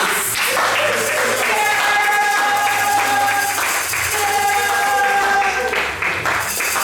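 Congregation in a church clapping and applauding steadily and loudly throughout, with a sung melody and instruments carrying over the claps.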